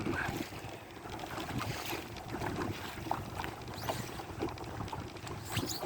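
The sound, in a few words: strong wind while sailing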